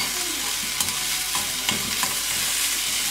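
Onions sauté in a pan with a steady close sizzle, broken by a few soft scraping stirs of a spoon or spatula, with no talking.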